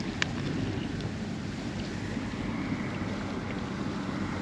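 Steady wind buffets a microphone on a fishing boat out on open water while crappie jigs are fished, a continuous low rushing roar with faint water sounds and no talk.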